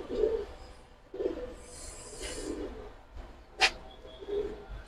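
Pigeons of the red and orange Makra, Kaldam and other coloured breeds coo in soft repeated low bursts, with faint chirps and a brief sharp background noise in a quiet space.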